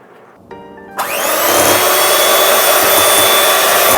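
An electric mixer whirs up loudly after a couple of brief clicks, then runs steadily, creaming butter and sugar in a bowl for passion fruit cake batter.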